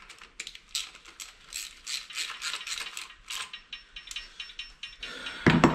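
A ratchet winds bolts down on an engine head during head and sump installation, giving quick bursts of light clicking pawl ticks in an uneven rhythm, close and fairly quiet, ending with a short louder clatter.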